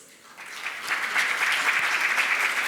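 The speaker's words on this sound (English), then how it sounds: "welcome him on stage with a huge round of applause" Applause from a presentation audience welcoming a speaker on stage swells after a brief quiet start, a dense steady clatter of many hands clapping, fairly loud and sustained.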